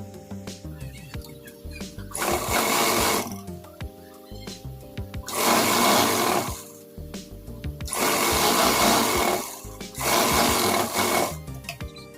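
Sewing machine stitching salwar fabric in repeated bursts of about a second each, loud and close with pauses between runs, and no talking.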